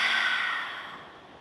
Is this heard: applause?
no